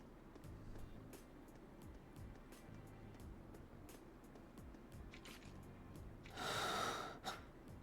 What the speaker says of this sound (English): why is that breathing so loud?